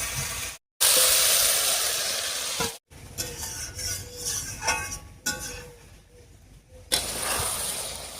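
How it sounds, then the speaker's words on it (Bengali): Ground spice paste with water fries in a pan for a koi fish and kochur loti curry, a loud steamy sizzle and hiss with scraping stirs, broken by brief silent cuts. "এবারে মশলা বাটা জল দিয়ে খুব ভালো করে কষিয়ে নেব।"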